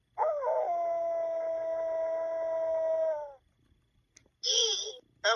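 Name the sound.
dog sound effect from LeapFrog Tag Reader book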